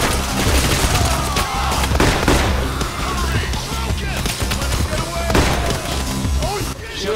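Pistol gunfire in Payday The Heist rings out as rapid, dense bursts of loud shots over a constant backdrop of game combat noise, with voices talking at times.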